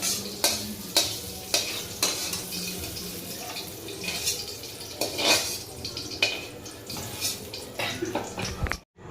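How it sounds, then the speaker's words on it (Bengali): Vegetables for veg pulao frying and being stirred in a pan, a steady close sizzle broken by repeated scraping strokes of the spoon, with a brief clatter of cookware near the end. "চলুন বন্ধুরা, আমরা এটাকে একটু ভালো করে ভেজে নিই"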